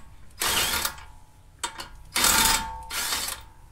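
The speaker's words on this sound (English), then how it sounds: "Get my little impact gun." A small impact gun spins coilover nuts off a MK5 R32 in a few short, loud whirring bursts, each roughly half a second long and separated by brief pauses.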